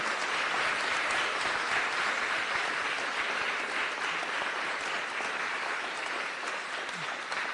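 Sustained, loud applause fills a film festival screening hall in Little Rock after a discussion, an even wash of many clapping hands from start to finish.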